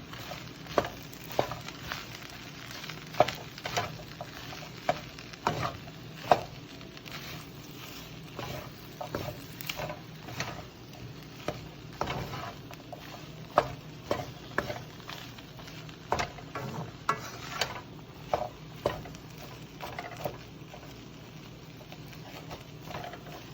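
Purple onions stirred into a one-pot chickpea meal in a pan, a soft sizzle under scattered scraping stir strokes and light clinks, with no talk.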